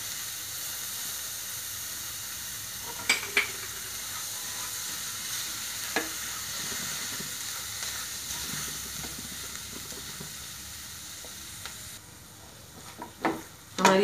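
Onion chutney sizzles steadily in a pan, a continuous frying hiss with a few light clicks from stirring, fading quieter near the end.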